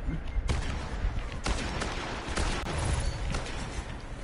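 Rapid gunfire in the video game Destiny, repeated sharp shots and bursts close by, mixed with game effects and people talking.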